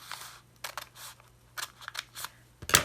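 Scissors snipping an angled line into a paper snack bag, several short crisp cuts in an uneven rhythm, close and alone, ending in a sharper louder snip.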